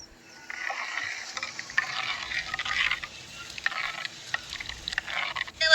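Flour being stirred into water to make a batter, with a continuous close swishing and scraping that rises and falls in steady strokes.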